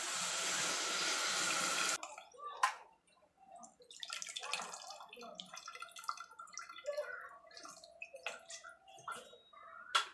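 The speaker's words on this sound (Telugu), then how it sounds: "పులుసు పోస్తున్నాను, చింతపండు పులుసు" Tamarind soup pours and splashes into a pot of okra, onion and tomato for a moment, then quieter clinks, drips and kitchen handling sounds follow close by.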